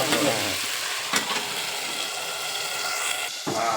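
Loud, continuous sizzling of food frying in a pan, with occasional stirring scrapes close by and no talking.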